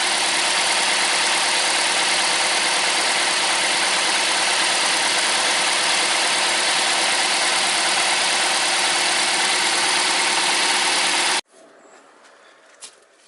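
A Toyota Camry engine, after an ignition coil repair, idles steadily with a smooth, even hum and no vibration for about eleven seconds, then cuts off abruptly, leaving near silence with a faint click.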